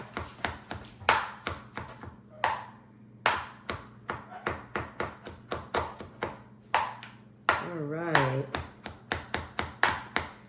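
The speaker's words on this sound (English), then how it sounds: "So I'm just gonna finish chopping this up." A knife chops rapidly on a cutting board in quick, uneven bursts of sharp taps, close up, with a brief voice in between.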